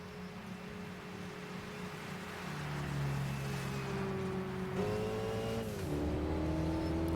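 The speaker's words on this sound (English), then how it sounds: "can you hear that turbo?" Turbocharged race car engine in the video game Gran Turismo 5, a steady droning drone that climbs and shifts pitch through gear changes, moderately quiet and continuous with no talking.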